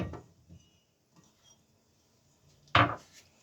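A large onion being cut into wedges on a board, with a few soft knife taps early on and one loud, sharp chop near the end, otherwise quiet.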